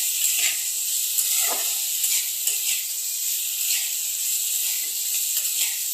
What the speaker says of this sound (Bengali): এটাকে 1 থেকে 2 মিনিট তেলের মধ্যে এভাবে এটাকে ফ্রাই করবো